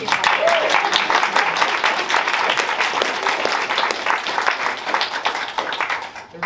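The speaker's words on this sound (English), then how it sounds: "And so I think a good round of applause." An audience gives a full round of applause at a talk about dealing with loss, with loud, dense clapping that holds steady and then tapers slightly, while voices murmur underneath.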